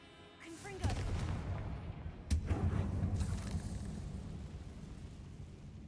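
The Confringo curse from the Hogwarts Legacy game goes off as a booming magical blast, followed by a second sharp explosion and a rumbling tail that fades slowly.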